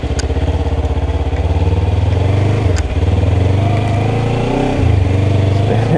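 A 2014 Kawasaki Ninja 300 with straight tires running on slippery mud, its engine droning loud and close with steady rumbling pulses, pitch wavering and surging briefly as the throttle shifts.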